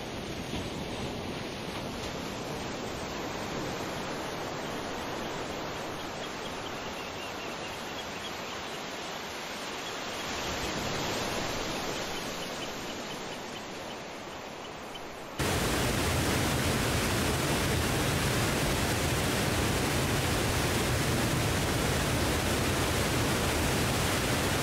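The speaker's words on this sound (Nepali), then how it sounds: "ताल झरनाबाट 15 किलोमिटर दूरीमा तिनाङ झरना पुग्यौँ" Tinang waterfall on the Pokhara–Manang road in Nepal roars as a continuous broadband rush of falling water, steady throughout and growing noticeably louder and fuller partway through, with no voices.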